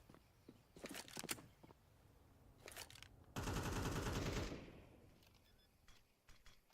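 Counter-Strike 2 gunfire plays during a competitive esports match: short bursts of distant shots, then a longer sustained spray, with faint footsteps and clatter in between.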